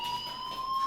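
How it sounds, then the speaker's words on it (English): A fire alarm rings in the video game Life is Strange: a steady, piercing electronic tone with several high pitched layers that holds unbroken and fairly loud throughout, with no voices over it. "Hey, do you hear that fire alarm?"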